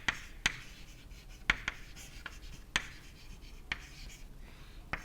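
Chalk or marker taps and strokes on a board during an engineering lecture on compressible flow through a converging-diverging nozzle, coming as sharp, irregular clicks every second or so, close and fairly quiet with no talking.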